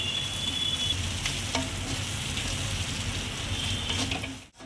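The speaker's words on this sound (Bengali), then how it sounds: "এবার ওই তেলের মধ্যে ভাজবো, এমনভাবে ভাজবো যেন মানে জিনিসটা কালো না হয়" Chopped ginger frying in hot oil in a home kitchen, a steady close sizzle running throughout with occasional stirring clinks, ending in a brief scrape.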